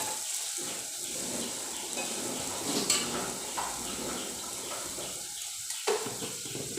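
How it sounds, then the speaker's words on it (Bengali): Spice paste with a splash of water frying on low heat in a pan for a vegetarian banana flower curry, making a faint, steady bubbling sizzle with occasional light stirring scrapes. "এবার কম স্টিমে মশলাটাকে খুব ভালো করে ভেজে নেব।"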